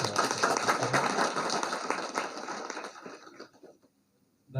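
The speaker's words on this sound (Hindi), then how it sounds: "एक बार जोरदार तालियों से" A crowd at a community gathering gives loud applause to welcome Uttar Pradesh minister Danish Ansari, a dense wash of clapping that holds for about three seconds before dying away to near silence.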